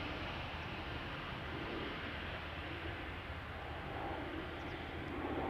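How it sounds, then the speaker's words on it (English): Jet engines spooling up on an Airbus A330 with CF6 engines at Amsterdam Schiphol Airport, a steady broadband roar with a low rumble that holds loud and even throughout, with no talk. "to my right, I am starting to hear those CF6s of the A330"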